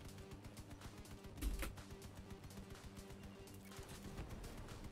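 Automatic gunfire in a video game, a quiet steady stream of rapid shots repeating throughout, with one louder thump partway through.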